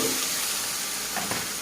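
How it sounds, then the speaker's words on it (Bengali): Steady hiss and sizzle of onion and garlic paste hitting hot oil in a pan, a continuous bright frying crackle at close range, heard alone without speech. "তেল গরম হয়ে গেছে, আমি এখন পেঁয়াজ বাটা রসুন বাটা"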